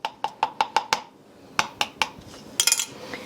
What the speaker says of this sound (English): I'm just going to stir that around in there a little bit.